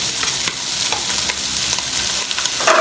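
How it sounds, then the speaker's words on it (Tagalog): Squid balls and chicken balls sizzle and fry in a pan for lomi, a close, steady crackle with a few stirring scrapes and no voices. "Ilalagay ko na rin po yung squid balls and then chicken balls para sabay na pong mapapry."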